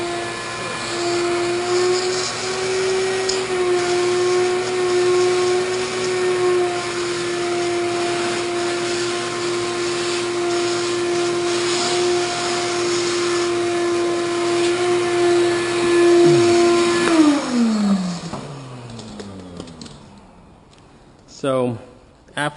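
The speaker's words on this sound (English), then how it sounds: "Vacuum this one." A vacuum cleaner runs steadily and loudly inside a 2010 BMW 328i during a windshield replacement, holding a sustained whine for about seventeen seconds before spinning down, followed by a few clunks.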